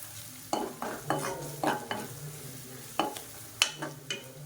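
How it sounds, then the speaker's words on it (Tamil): Spiced egg thokku masala with garam masala is stirred in hot oil in a pan, giving a soft continuous sizzle and frying hiss broken by repeated scraping strokes of a spoon, close and fairly quiet. "இப்போ இதை வந்து லேசாக எண்ணெயில் பரட்டி விட்டுக்கலாம்."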